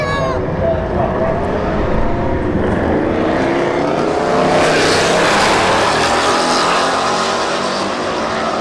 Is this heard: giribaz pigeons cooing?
no